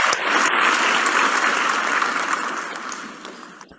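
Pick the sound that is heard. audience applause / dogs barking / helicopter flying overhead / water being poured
audience applause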